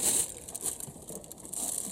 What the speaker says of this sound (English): just cover up these ends with the plastic bags